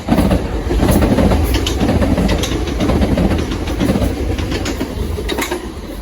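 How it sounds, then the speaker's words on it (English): A Southern Class 377 electric train bound for London Victoria passes close by, a loud sustained rumble with rhythmic clickety-clack of wheels over rail joints throughout. "The next train to pass by will be a Southern 377 bound for London Victoria."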